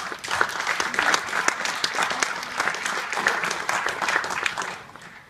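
A political nomination crowd gives steady applause to armed services members and their families, a dense clapping that holds for several seconds and fades out at the end.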